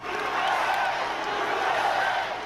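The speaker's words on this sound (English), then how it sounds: "As this crowd chants and sings for hours." A packed crowd at an indoor political rally chants and sings together, a steady, reverberant mass of voices filling the hall at moderate distance without letup.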